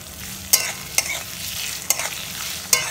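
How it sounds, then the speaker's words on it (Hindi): Onion, garlic and chili frying in a pan, with a low sizzle broken by four sharp scraping strokes of a spatula at uneven intervals, close and clear with no speech. "तो मैं इसके अंदर ऐड कर दिया और इसे थोड़ा सा रेड होने तक मैं फ्राई करूँगी।"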